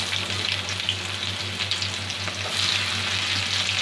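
Chopped onions for a mutton curry fry loudly in hot oil, a dense continuous sizzle close up with occasional stirring scrapes and a low steady hum underneath.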